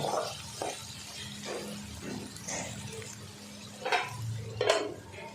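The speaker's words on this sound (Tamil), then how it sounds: "உப்பு சேர்த்துட்டு நல்லா கலந்து விட்டுருங்க." A spoon stirs chicken and salt in a cooking pan, making soft scraping strokes and light clinks against the metal, moderately quiet, with a few louder scrapes near the end.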